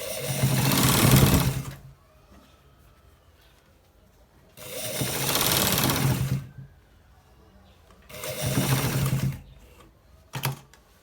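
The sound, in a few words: sewing machine stitching a designer shirt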